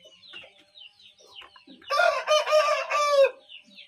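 Farm chickens cluck softly in scattered bursts, then one bird lets out a loud, drawn-out crowing call lasting over a second, close by.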